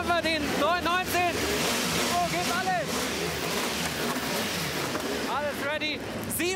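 A Porsche 919 race car engine sweeps past in repeated loud revving bursts with rising and falling pitch, under steady crowd noise and a talking voice.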